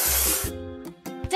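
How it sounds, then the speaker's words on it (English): A long hissing spray burst of paint in a cartoon building game, followed by short spray puffs and bright electronic tones. "Let's paint over the discoloration."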